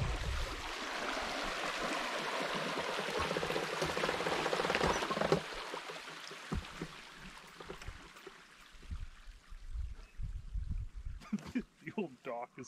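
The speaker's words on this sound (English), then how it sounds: "rushing water," Water rushes steadily through an old dam being cycled, a dense loud roar that fades after about five seconds into quieter trickling, with voices talking over the later part.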